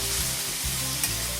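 Onion and pork stirred briefly in a hot frying pan with a sprinkle of salt, giving a steady close sizzle with soft scraping stir noises over about a second and a half, no talking.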